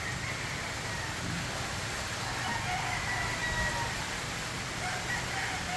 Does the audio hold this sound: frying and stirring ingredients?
no